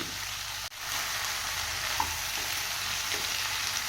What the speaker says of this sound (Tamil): எல்லா வெஜிடபிள்ஸும் 2 நிமிஷம் நல்லா வதங்கட்டும்.